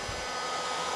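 A heat gun set to low heat warms a car's removed diesel particulate filter, giving a steady, faint blowing hiss with a soft low thump at the very start, no voices.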